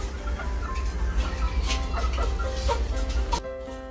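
Chickens cluck in a chicken yard in Vietnam, several birds giving short repeated clucks over a steady low rumble, fairly close, ending in a quieter stretch.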